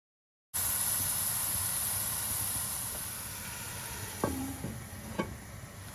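Chicken kabab mixture with whole cumin, garam masala and salt sizzles steadily in a pan after oil is added, a continuous frying hiss with a few sharp clinks of a spoon near the end.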